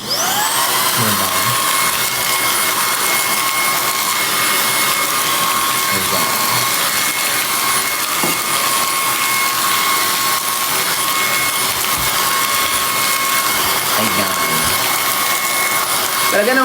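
Vacuum cleaner running indoors to pick up spilled pomelo salt, a loud, steady high-pitched whine held throughout, with faint bumps and brief voice fragments underneath.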